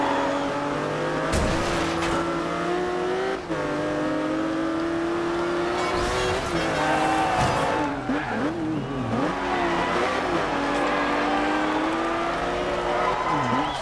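A sports car drifting around a town square circuit in the Forza Horizon 2 racing game, its engine revving loudly with rising and falling pitch and intermittent tire squeal, continuous and close with no speech.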